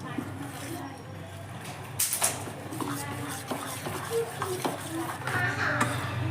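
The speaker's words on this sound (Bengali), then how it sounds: "আমি অল্প অল্প করে জল দিচ্ছি আর মাখাচ্ছি" Rice flour batter being mixed by hand in a bowl as water is added bit by bit, with soft squelching and occasional clinks of utensils against the dish, close and moderately quiet, with a voice speaking over it.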